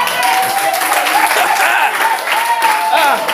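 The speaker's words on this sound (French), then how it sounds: "Applaudissons pour le Seigneur." A crowd applauds loudly and continuously, dense clapping filling the whole moment, with voices faintly mixed in.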